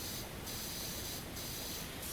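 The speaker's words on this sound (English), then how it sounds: "Of course, this is wood as well, so we spray that quickly." Pressure washer in PowerWash Simulator spraying a wooden surface, producing a steady, faint hissing spray with slight periodic shifts in tone and no voices.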